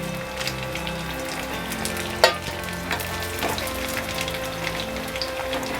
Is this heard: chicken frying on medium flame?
yes